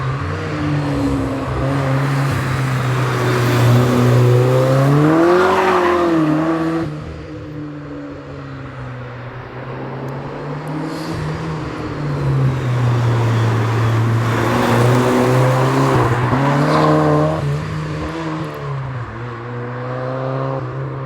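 A turbocharged Mazda MX-5 NA roadster accelerates hard in two long pulls, its engine note rising and falling loudly and close up with clear gear-change dips between surges.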